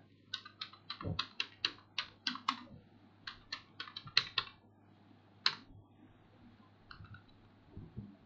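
Computer keyboard typing into a search bar, quiet close key clicks in quick irregular bursts with brief pauses, a few isolated taps toward the end.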